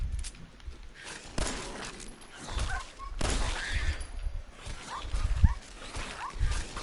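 Dogmeat the dog barking in Fallout 4 amid gunfire and footsteps, several short barks scattered through a busy, uneven mix of game sounds.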